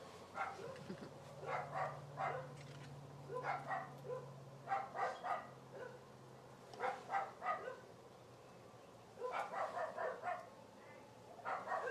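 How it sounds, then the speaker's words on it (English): Dogs bark outdoors in several short clusters of rapid woofs separated by pauses, moderately distant and fairly quiet, over a low steady hum and background ambience. "They got dogs, and they be barking."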